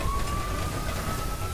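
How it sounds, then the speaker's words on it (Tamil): Ambulance siren in a Tamil movie scene, a steady high wailing tone that holds loudly and continuously over a dense rumble of traffic and engine noise. "இந்த ஆம்புலன்ஸ் வந்துருச்சுப்பா."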